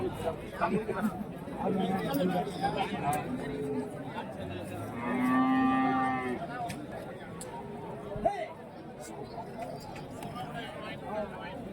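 Cattle at a cow market in Kuntharapalli, Krishnagiri district, with a few moos rising over a busy crowd and constant nearby chatter from people talking.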